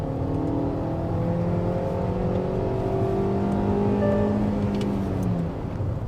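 A Tata Punch's engine runs steadily while driving, a loud close drone with rising and falling pitch as it accelerates through smooth gear shifts, no voices.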